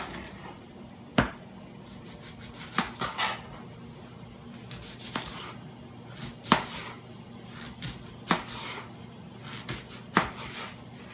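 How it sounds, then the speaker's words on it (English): Several sharp knife chops through an onion on a cutting board, coming at irregular intervals over a quiet room background. "but I will be chopping my onion."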